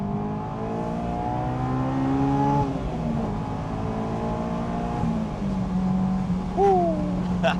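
A Honda car in second gear revving hard as VTEC engages, the engine note climbing steadily in pitch, dipping at a shift, then rising again, heard from inside the car with a brief squeaky tone near the end.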